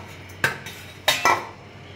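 A utensil stirs soft sweets in hot sugar syrup in a pot on a gas stove, giving a few distinct metallic clinks and scrapes against the pot, close and clear, with no talking.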